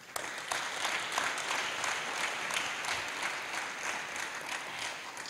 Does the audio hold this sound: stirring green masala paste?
no